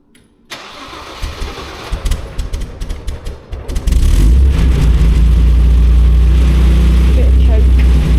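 An MGC classic car engine cranks and fires up on choke, with a rattling, uneven start that settles into a loud, steady, deep running note close by.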